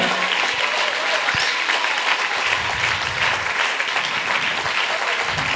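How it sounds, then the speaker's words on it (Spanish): A church congregation applauds during a Spanish-language sermon, a loud, sustained wash of many hands clapping together for several seconds, with a voice briefly heard over it. "Aplauda a Jesucristo el Señor."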